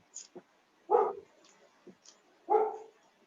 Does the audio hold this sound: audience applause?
no